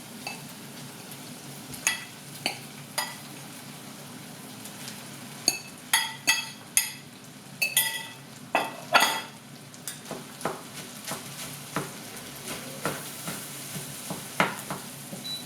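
Bagoong shrimp paste rice with pork belly being stirred in a pan over the heat, with a steady low sizzle and scattered scraping, clinking strokes of the spoon against the pan, louder in bursts around the middle.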